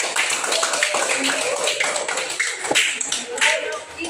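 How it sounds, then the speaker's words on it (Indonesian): Pupils in a sixth-grade classroom clap together for a group, a dense, steady patter of many hands lasting several seconds, with some voices mixed in beneath it. "Kita tepuk tangan untuk kelompok 2."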